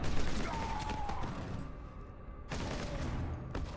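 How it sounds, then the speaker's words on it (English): Explosions and gunfire in the Warhammer 40k Space Marine video game, a dense stream of rapid shots and bursts with bangs and debris crackle, moderately loud and continuous. "you're getting some nice explosions"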